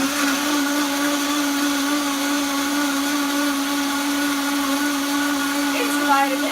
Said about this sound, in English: I was working with an inferior blender for a little while, and I got my Vitamix back